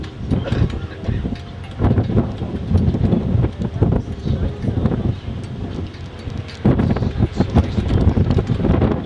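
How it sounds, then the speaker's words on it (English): Strong gusts of wind on the Rhine River during a river cruise buffet the microphone in loud, rumbling bursts, rising and falling throughout. "starting to get extremely windy on the Rhine."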